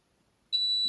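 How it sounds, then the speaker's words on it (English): A multimeter's continuity buzzer sounds while testing a fuse on a USB connector circuit board: a single steady, high-pitched electronic beep starts halfway through and holds loud and unbroken to the end, after near silence. "if you hear a buzzer, or you get a low resistance in the multimeter, means the fuse is good"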